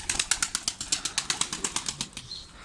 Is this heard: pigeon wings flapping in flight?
yes